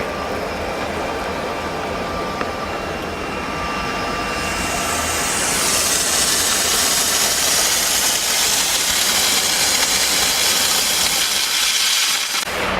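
A diesel mobile steam car washing machine pushes steam from its hand-held gun, a loud continuous hiss and roar that swells and brightens midway over a steady engine hum, with no talk.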